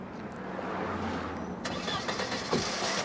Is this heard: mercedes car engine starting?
yes